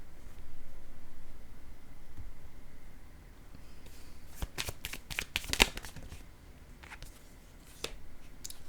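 Playing cards handled at a table, quiet rustling at first, then a cluster of sharp snapping shuffles and light slaps as cards are laid down, close and faint.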